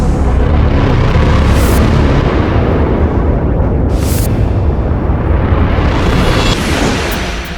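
Fire and explosions tearing through the Pentagon along an airliner's impact path in the 9/11 attack are rendered as a loud, continuous, rumbling roar of blasts with sharper bursts layered on top, sustained for several seconds.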